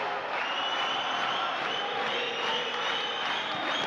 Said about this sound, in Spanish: la gente que aplaude, que empieza a alentar como todo el partido